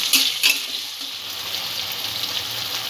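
Onion, tomato and capsicum fry together in a pan for a vegetable paneer cutlet, with a steady bright sizzle and a few sharp utensil scrapes near the start.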